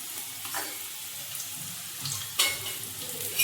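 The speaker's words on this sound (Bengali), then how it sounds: "এই কাঁকরোল ভাজাটা বসাবো" Teasel gourd (kakrol) slices fry in a pan with a steady, soft sizzle and crackle throughout, broken by a couple of louder clinks or scrapes near the end; no one speaks.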